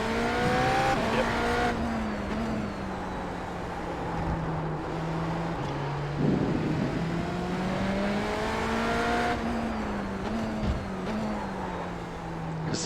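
An IMSA endurance race car on the COTA circuit roaring steadily at high revs as the engine pitch rises and falls through braking and downshifts, with tire squeal from front-wheel lockup, quiet talk underneath.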